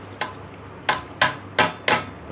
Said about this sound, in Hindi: तो मैं इसमें चावलों को ऐड कर